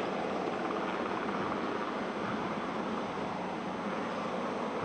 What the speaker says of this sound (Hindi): अब हेलीकॉप्टर ऊपर की तरफ उड़ान भर रहा है